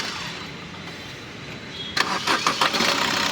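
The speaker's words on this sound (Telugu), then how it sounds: "ఒకసారి ఇంజిన్ ఆఫ్ చేసి మళ్ళీ ఆన్ చేస్తున్నాను" A 2016 Maruti S-Cross Delta engine cranks and catches, a burst of starter and ignition noise cutting in abruptly after a quiet stretch, then settling into a steady idle close by.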